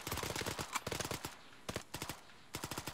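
A volley of rapid gunfire in a military video game, several dense bursts of shots firing in quick succession, loud and close with brief pauses between bursts.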